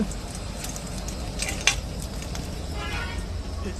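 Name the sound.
soya chunks frying in hot mustard oil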